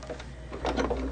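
A sewing machine runs briefly on quilt fabric, a quiet hum that breaks into a short, louder burst of rapid mechanical stitching.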